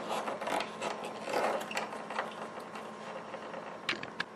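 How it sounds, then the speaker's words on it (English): Small screws being turned out of a part inside a PS5 console during an SSD install, heard as close, faint ratcheting clicks and soft mechanical creaks with a few sharper ticks near the end. "Next thing you want to do is screw this piece out right here."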